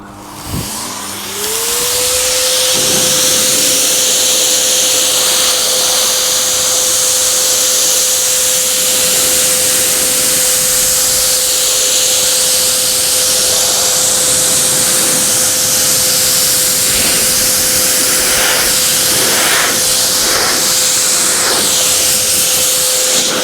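A BLO AIR-GT forced air vehicle dryer starts up and blows steadily with a loud, constant broadband rush and a steady motor whine, used to dry a car's painted surface; no one talks over it.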